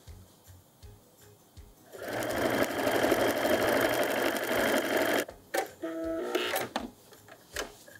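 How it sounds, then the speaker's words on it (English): A sewing machine top stitching along the seam where two fabric panels of a drawstring bag meet, a steady close buzzing run of stitches for a few seconds, then short start-stop bursts. "I'm just going to top stitch about 1/4 of an inch from where the two fabrics meet"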